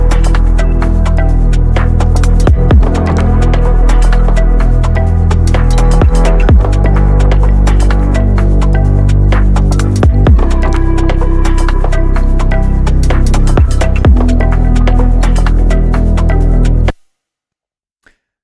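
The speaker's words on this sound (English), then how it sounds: "So we're just going to go directly in the first drop" Loud, dense electronic music with a heavy pounding bass and a thick layered synth wall, running steadily before cutting off abruptly into silence.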